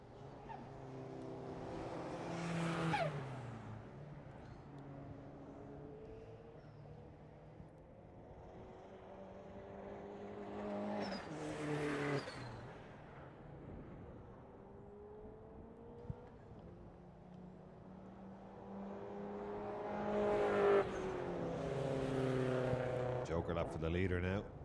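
Rallycross race cars at the Irish Rallycross Grand Prix swell in and fade as they pass through a left-right chicane, engines rising and falling in pitch in three distinct passes, with a commentator talking over the engines throughout.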